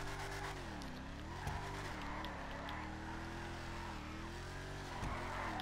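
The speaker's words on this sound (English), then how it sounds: "Let's try and drift this thing." A Mamba sports car drifts in GTA 5, its engine droning steadily while tires squeal and skid in long sweeping waves, loud and continuous throughout.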